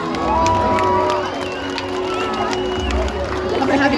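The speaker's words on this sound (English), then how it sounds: "Everyone give our guests a round of applause." An audience at a SeaWorld San Diego orca show claps and cheers for guests brought down to the stage, a crowd roar with shouts and clapping while an announcer's voice carries over it.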